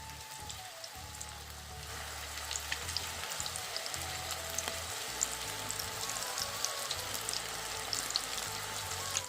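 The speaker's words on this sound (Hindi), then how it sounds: "पकौड़ियाँ बन रही हैं एकदम कड़क कड़क" Pakoras crackle in hot oil in a pan on a gas stove, a steady close sizzle that continues evenly with no talking.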